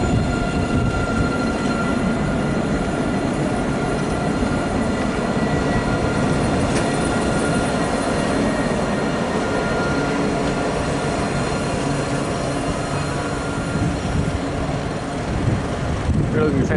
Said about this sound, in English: there's a lot of the trains travel on the left in this part of France